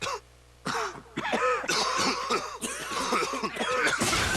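A dry, hacking cough from a cough medicine advert: several harsh, raspy coughs and throat-clearing bursts in a quick irregular series, close and loud after a brief quiet opening.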